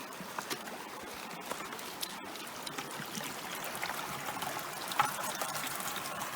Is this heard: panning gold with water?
yes